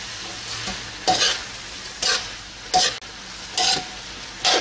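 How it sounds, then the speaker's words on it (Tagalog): Vegetables with soy sauce being stir-fried for pancit bihon: five loud bursts of hissing sizzle and tossing, roughly one per second, each rising sharply then fading back to a low simmer, close and without speech. "We'll just stir fry this"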